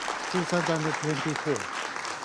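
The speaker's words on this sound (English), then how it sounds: "The first applause apparently, right? Ceasefire applause." Applause at a UN Security Council chamber after a ceasefire resolution vote is adopted, a broad steady clapping wash heard throughout, with a voice speaking over it.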